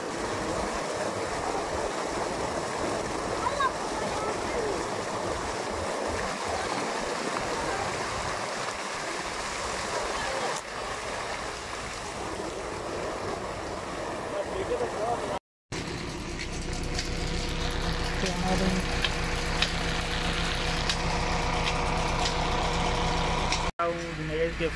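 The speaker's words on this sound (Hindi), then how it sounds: "हम जो है ट्रैक्टर की मदद से जो है ट्यूबवेल चला रहे हैं" A farm tubewell driven by a tractor engine pumps water in a constant rushing gush over the engine's low rumble, a steady, loud wash that shifts in character partway through. A person talks over it.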